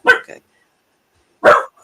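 A dog barks indoors close to the microphone: two loud, sharp barks with a brief yip just after the first, separated by about a second of silence.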